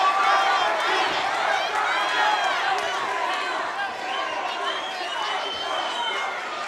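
A dense, loud crowd at a boxing match roars and chants continuously, many voices overlapping with shouts and cheers rising above the steady din.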